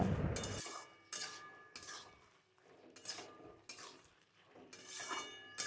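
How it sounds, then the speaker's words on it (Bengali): Taro greens with salt being stirred in a pan, a utensil scraping and clinking against the metal in several uneven bursts, close and moderately loud, with no voices. "নুন দিয়ে আমি এখন ভালো করে নাড়াচাড়া করে নেব"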